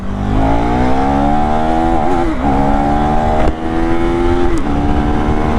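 A KTM 390 Duke motorcycle launching from 5000 rpm, its loud engine roaring and rising in pitch through several quick gear changes, close by and steady.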